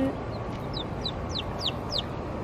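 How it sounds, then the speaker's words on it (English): Young chicks in a box give a quick series of short, high peeps and chirps, about half a dozen in a row, close by over a low background hum. "Stay in there, little chickies."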